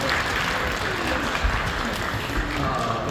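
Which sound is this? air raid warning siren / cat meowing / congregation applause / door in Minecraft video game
congregation applause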